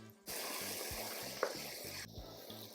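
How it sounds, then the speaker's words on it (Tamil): Onions with salt sauté in a pan toward golden brown, a quiet steady sizzle with light stirring, interrupted by brief gaps and a low rhythmic hum underneath. "இப்போ வெங்காயம் வந்து நல்லா வதங்கிட்டே இருக்குது"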